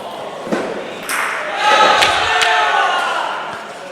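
Bocce ball struck during a Serie A bocce match in an indoor bocciofila: a few sharp clacks and thuds of balls hitting, followed by a swelling crowd roar and shouting.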